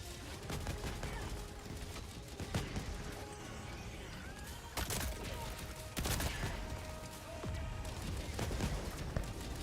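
Dense, rapid gunfire from Helldivers 2 pops in steady bursts throughout, with heavier volleys swelling at several points over a constant busy battle din.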